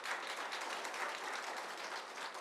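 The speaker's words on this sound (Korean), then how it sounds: "큰 박수로 맞이해 주십시오." Audience applause welcoming a pastor invited to give a lecture at a public current-affairs forum, a steady, moderately quiet wash of many hands clapping that holds evenly throughout.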